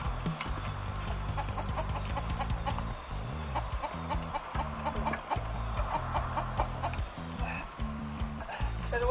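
Chickens cluck steadily inside a chicken coop, with a busy, overlapping chorus of short calls and occasional louder squawks, close and continuous throughout.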